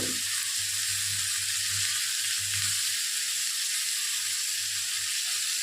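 Tomato hits hot oil in a Bengali bitter gourd and fish curry, setting off a loud, dense, continuous sizzle that stays steady from start to finish, close up with no talking.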